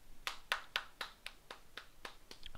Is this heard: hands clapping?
yes